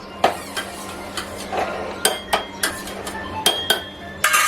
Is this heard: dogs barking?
no